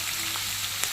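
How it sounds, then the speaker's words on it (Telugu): Onions and green chillies fry in hot oil left from frying fish for a fish and brinjal curry, giving a steady close hissing sizzle with a faint stirring tick. "ఈ ఆయిల్లోకి ఆనియన్స్ వేసేసుకోవాలి"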